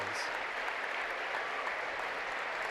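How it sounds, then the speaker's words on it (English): Crowd applause for honor students fills the Westview High School gym at a junior varsity boys basketball game against Fremont, a steady, fairly distant patter of clapping that holds throughout. "getting a well-deserved round of applause"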